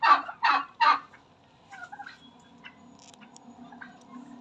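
A female golden breeder turkey gobbles like a male, three loud, close rattling calls in quick succession, followed by softer clucks and faint bird chatter in the background.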